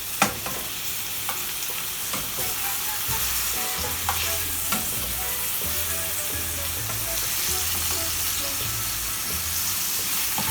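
Pineapple pieces and spices sear in a hot pan with a steady, close sizzle and frying crackle, broken by occasional stirring clinks and scrapes throughout.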